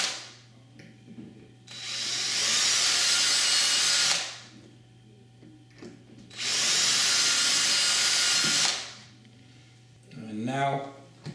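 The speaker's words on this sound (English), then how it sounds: "drill the pilot holes for the screws." A power drill with a 3mm bit bores pilot holes for screws while fitting tilt-and-turn window gearing: two sustained whirring bursts of a few seconds each, close and loud, separated by quiet handling noises.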